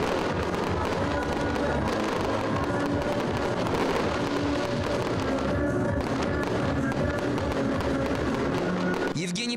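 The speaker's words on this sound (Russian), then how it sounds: "Фестиваль завершился большим фейерверком на площади Ленина. Многочисленные залпы раздались прямо над головами зрителей." Fireworks salvos burst over a festival square on Lenin Square, a dense, continuous barrage of loud crackling and booming volleys directly overhead, with a crowd murmuring faintly underneath.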